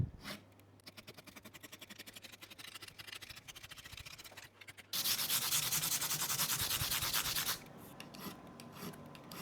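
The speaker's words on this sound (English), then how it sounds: "Get yourself a decent fret end file." Fret end file worked over guitar fret ends on a neck off the body, rapid rhythmic rasping strokes close by, turning louder and denser in the middle stretch before tapering back to lighter scraping.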